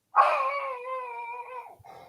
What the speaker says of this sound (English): What are you barking at, Marcy?